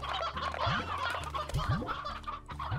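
Chicken clucking in the video game Slime Rancher, a run of short repeated clucks and squawks from a nearby hen, loud and alone with no talk.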